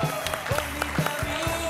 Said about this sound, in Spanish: Recibimos con un fuerte aplauso en Sonríe a Gustavo Santaolalla.